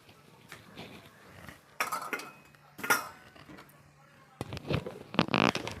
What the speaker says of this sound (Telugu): ఇప్పుడు పచ్చడి వేరే గిన్నెలోకి తీసేసుకుందామండి